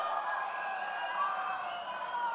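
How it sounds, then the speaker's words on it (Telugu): Crowd at a party convention cheering and clapping, a broad sustained roar of voices and applause heard from a distance, steady and moderately faint. "గట్టిగా చప్పట్లు కొట్టి అందరినీ అభినందించాలి ఆశీర్వదించాలి"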